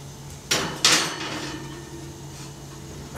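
Oven door clunking as a butternut squash pie is slid back in, two sharp metallic bangs close together near the start, then a low hum of the kitchen.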